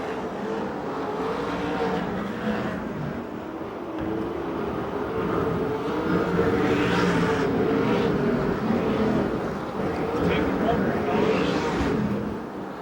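USAC/CRA sprint cars race at Perris, California, in a 50-lap event, engines roaring in a continuous droning wash that swells as cars pass, under steady commentary from an announcer.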